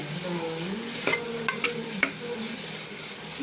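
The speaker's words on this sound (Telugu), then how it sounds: "బాగా గోల్డ్ కలర్లో వచ్చే వరకు మనం ఉల్లిపాయ ముక్కల్ని ఫ్రై చేసుకుందాం" Onion pieces frying in a pan in a home kitchen, a soft continuous sizzle punctuated by a few sharp clinks and scrapes of a utensil stirring against the pan.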